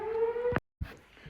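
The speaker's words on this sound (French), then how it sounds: "Il y a encore des villes qui font chaque début de mois, là, qui font leur test de sirène." A town civil defense siren sounds its monthly test as a steady tonal wail, cut off by a brief silence before noisier sound returns. It carries clearly and no one talks.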